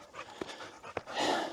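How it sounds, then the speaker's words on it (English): A dog named Nelly pants close by in quick, breathy bursts with a couple of sharper exhalations, fairly quiet overall, and no one speaks. "that dog makes so much fucking noise"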